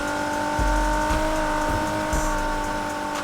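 Acura RSX e-braking in the Need for Speed Heat racing game: a steady engine drone with repeated low thumps and brief tire squeals as the car slides through the corner.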